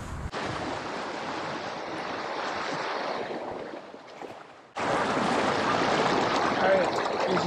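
Steady, loud rushing water at a creek mouth on a fishing outing, broadband wash with wind buffeting the microphone, briefly dropping before surging back strongly.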